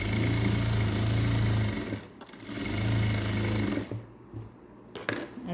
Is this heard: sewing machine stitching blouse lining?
yes